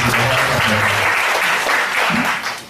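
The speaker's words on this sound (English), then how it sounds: "Can you please give one more applause?" An audience at a product demonstration breaks into loud, sustained applause, with dense clapping and a few voices mixed in, tapering off at the end.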